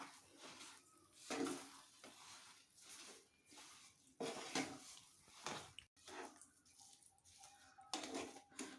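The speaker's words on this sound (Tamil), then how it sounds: "சர்க்கரை போட்டு நல்லா கலந்துக்கலாமுங்க" Sugar stirred into rava kesari in a pan, a steady scraping and sloshing of a spoon through the thick semolina mixture with soft sizzle, faint and continuous, no speech.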